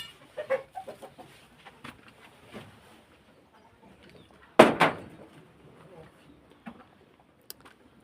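Chickens on a farm after the rainy season give scattered short clucks at close range, with quiet gaps, some light handling noises and one sharp louder burst midway.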